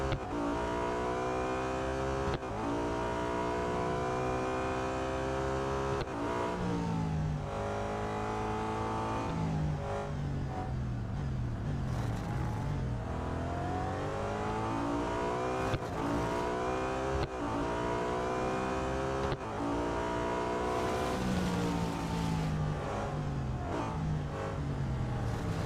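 A BMW M3 GTR race car engine in Real Racing 3, loud and steady at close range. It screams up through the revs again and again, with a sharp drop in pitch at each gear change, and no voices are heard.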